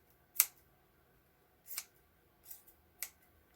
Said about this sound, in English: You can cut into them to make them kind of like a little fringe.